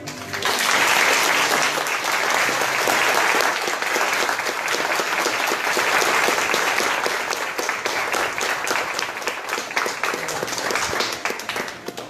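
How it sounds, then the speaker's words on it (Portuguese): An audience at a suicide-prevention lecture gives a long round of applause, full and sustained at first, then thinning slightly toward the end. "Então eu gostaria que todos aqui batessem palmas para Maria de Nazaré."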